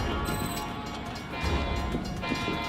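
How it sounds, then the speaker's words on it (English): A train rumbles past nearby in Florida, a loud continuous roar with rattling rail noise and a faint high whine. "There goes the train"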